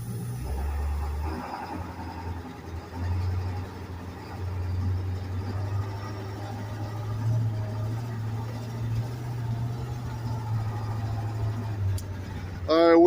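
A 2001 International Amtrans 71-passenger school bus with a 7.3 diesel and Allison transmission driving along, a steady low engine drone and road rumble with a brief clatter at the end.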